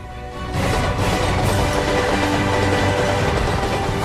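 A moving Indian Railways passenger train rumbles steadily and loudly, swelling in after a brief quieter start and then holding a continuous rolling roar with faint rhythmic wheel clatter, no voices present.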